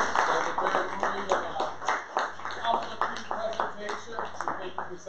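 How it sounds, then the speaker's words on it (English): An audience applauds a lecturer at a Lenten lecture in a Greek Orthodox church, a steady wash of clapping lasting throughout, with voices mixed in. "let's give her another round of applause"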